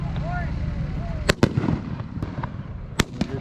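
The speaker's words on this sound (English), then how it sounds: "All right, here we go. Lighting off fireworks." Fireworks set off at a night truck-racing show at Octane Fest 2021, a burst of sharp cracking bangs and pops over crowd rumble, with faint rising whistles early on, close and loud.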